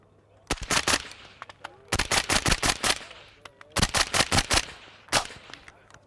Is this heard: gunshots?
yes